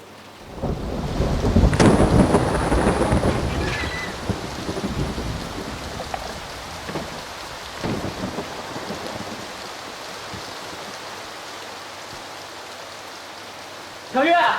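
Heavy rain pours steadily throughout, broken early by a loud, close thunderclap that rolls on for several seconds, with a few softer rumbles later and a sudden louder burst of rain at the very end.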